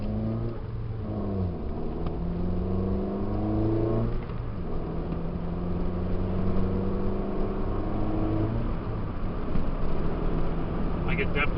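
A 2009 Toyota Yaris Base with a Tanabe Medallion exhaust revs up and down several times, its loud, droning engine note rising and falling steadily at close range.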